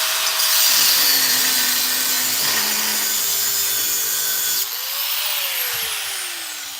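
A cutoff wheel whines through metal on a rattle trap as a mini spool goes in: a loud, continuous high grinding shriek with a drifting pitch, close by, easing off slightly near the end.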